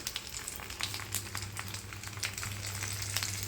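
Lote fish paturi frying slowly in a covered pan over low gas, giving a steady soft sizzle with faint crackles and a low continuous hum beneath, close and alone with no voices.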